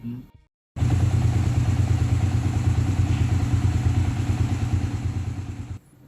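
After a brief pause, a motorcycle engine fires up and idles loudly and close with a steady rattling pulse, warming up, then cuts off near the end.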